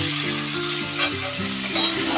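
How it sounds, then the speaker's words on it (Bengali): Hog plum (amra) frying in a pan after shrimp, with a steady, close sizzle that runs throughout, broken by soft stirring scrapes. "আমড়াটাও কিছুক্ষণ ভেজে নেব"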